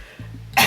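A man clears his throat and then gives a short, sharp cough, close by and loud, over in under a second, with a sore throat starting.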